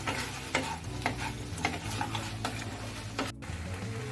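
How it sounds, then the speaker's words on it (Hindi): Crispy baby corn is stirred in a pan over a high gas flame. Steady scraping and tapping strokes of the spoon ride over a constant light sizzle, close and clear. "अब गैस का फ्लेम हाई करके आप इसे अच्छे से मिक्स कर दें"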